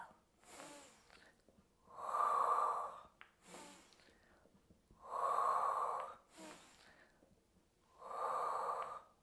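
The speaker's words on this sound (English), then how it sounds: "Inhale and exhale." Slow, deliberate breathing during a Pilates exercise for older athletes: three loud, drawn-out exhales alternate with quieter inhales in an even rhythm, close to the microphone and without talk.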